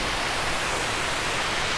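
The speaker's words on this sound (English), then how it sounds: "Pretty cool waterfall." Woodland waterfall with a steady, dense rushing hiss of falling water, close and constant with no voices.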